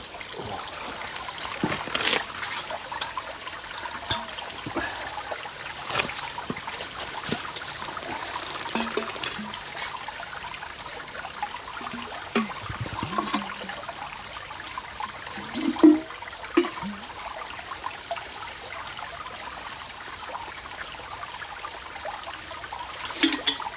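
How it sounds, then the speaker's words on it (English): Water from a woodland stream at a wild hammock camp trickles and gurgles steadily nearby while it is being collected, with occasional splashes and scuffs over a soft continuous flow. "let's go to the stream, get some water"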